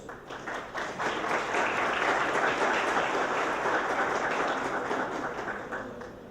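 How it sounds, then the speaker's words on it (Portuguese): Audience applause at a music-rights congress as a mediator is welcomed, dense clapping from a seated crowd that swells over the first second, holds steady, then tapers slightly near the end. "recebe carinhos aplausos de todos"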